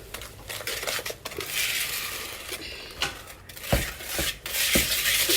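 Bread pudding ingredients being stirred in a bowl for a bourbon bread pudding, soft scraping and occasional clinks of utensil on bowl, fairly quiet and close.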